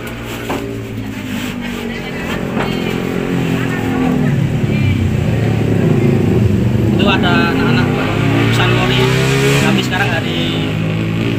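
A 1944 Jeep Willys replica built by a local garage drives along, its engine droning loud and close and rising as it accelerates, with someone talking over the steady rumble.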